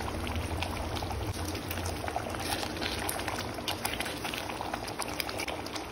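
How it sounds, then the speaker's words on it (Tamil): Egg kurma curry boils in a pot, a continuous close bubbling and popping that stays even and moderately loud throughout, with no voices. "நல்லா கொதிக்குது"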